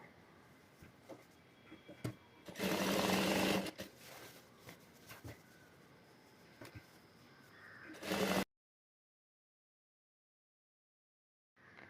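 A sewing machine stitches elastic onto fabric in two short whirring bursts, with fabric handling and faint bird calls in between, followed by silence.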